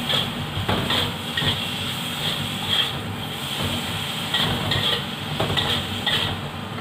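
Boiled chicken liver and gizzard frying in a pan: a constant low sizzle with repeated spatula scrapes and light clatter against the pan, close and fairly even.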